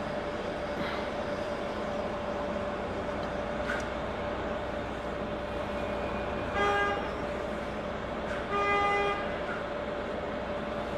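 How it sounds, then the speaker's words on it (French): Vehicle horns honking in traffic, heard from inside a French truck: two short, distinct honks a couple of seconds apart, moderately near, over a steady low road and engine rumble. "Alors je sais pas qui klaxonne l'autre, mais arrête de klaxonner quoi."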